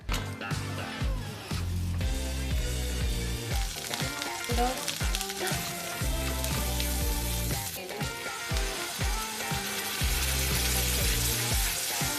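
Frozen parathas fry in a pan with a steady, close sizzle that continues throughout under background music.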